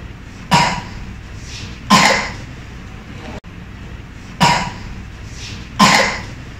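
A patient coughs during a chest examination for a chest-wall swelling that connects with pleural fluid: four sharp coughs in two pairs, each a loud burst with a brief decaying tail, against a quiet room.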